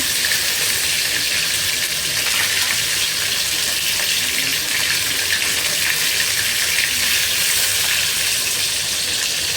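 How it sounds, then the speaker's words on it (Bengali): Baila fish fries in a pan with a loud, continuous crackling sizzle of hot oil, steady and close throughout with no pauses. "এই যে মাছটা ভেজে নিচ্ছি বাইলা মাছ রান্না করতেছি"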